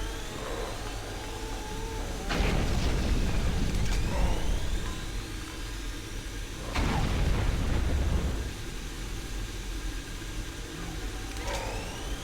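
Grenade blasts in Doom 3 BFG Edition: two loud, booming explosions with long rumbling tails, a few seconds apart, over dark game ambience with faint whooshing sweeps.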